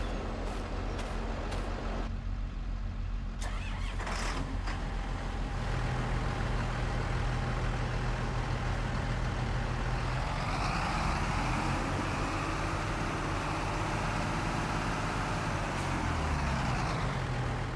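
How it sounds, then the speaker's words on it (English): A tractor in Farming Simulator 22 idles and then drives off, producing a steady low engine drone that rises and shifts in pitch as it moves, with a few short clicks near the start. "First, I gotta move this tractor here."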